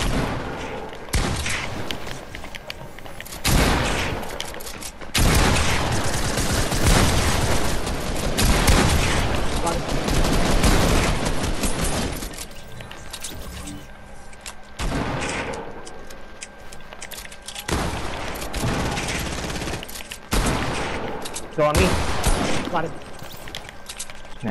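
Gunfire in the video game Fortnite comes in several bursts of rapid shots, some long and loud, others short, with quieter gaps between; a player talks at moments.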